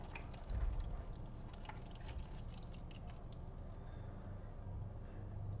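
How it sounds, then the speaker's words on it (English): Water is poured into a perforated microgreen tray, a soft, continuous trickle and splash heard close up. The flow stays steady with a slightly stronger burst near the start. "you're just going to pour this into your tray. And it's going to flow through these perforations"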